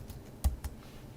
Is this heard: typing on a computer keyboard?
yes